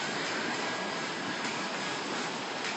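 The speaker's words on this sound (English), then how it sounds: "I'm gonna bring the drone down for you guys." A camera drone flies low over a Florida beach at sunrise, giving a steady, loud whirring buzz that holds without a break and with no talk over it.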